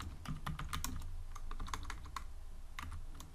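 Python code typed on a computer keyboard gives a quick, steady run of close key clicks with no one speaking.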